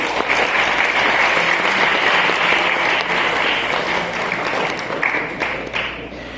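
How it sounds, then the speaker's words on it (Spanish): Classroom applause for a student group after a histology presentation, a loud dense round of clapping from many students that holds steady and then tapers slightly toward the end. "ahora es un aplauso para el grupo"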